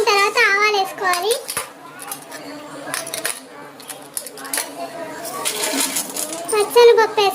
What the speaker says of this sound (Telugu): ఆయిల్ బాగా వేడైన తర్వాత ఆవాలు వేసుకోవాలి